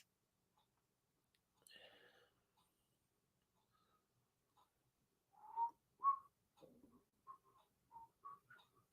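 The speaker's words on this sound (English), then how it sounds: "I got to quit that whistling" Faint, breathy whistling in short melodic phrases, a few scattered notes early then a livelier run of pitched tones toward the end, fairly quiet.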